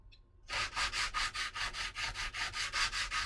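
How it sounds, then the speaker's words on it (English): After a short pause, rhythmic back-and-forth sanding scrapes across wood in steady, even strokes, sanding it flat, loud and close, with no talking. "I'll start sanding it flat, and then I'll kind of work it"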